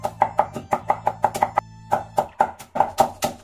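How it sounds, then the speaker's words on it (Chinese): A kitchen knife chops green onions on a cutting board in quick, evenly spaced strikes, about a dozen sharp knocks with one brief pause midway, close and clear with no voice. "好了，葱花切好了"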